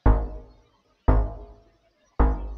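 Three deep, punchy future house synth bass notes from a preset in LMMS, evenly spaced about a second apart, each with a sharp attack that quickly decays into silence.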